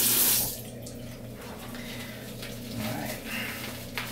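Tap water runs into a barbershop sink while shaving lather is being mixed into a thick paste, a soft continuous trickle with a brief louder splash at the start, close by and fairly quiet.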